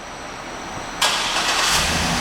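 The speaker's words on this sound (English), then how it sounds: "And the car starts right up." A 2007 Cadillac Escalade ESV AWD starts by remote: a short crank leads into a steady engine rumble and idle that carries to the end, loud and nearby with no talk.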